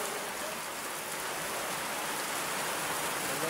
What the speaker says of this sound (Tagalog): Lakas pa ng ulan, parang bagyo na.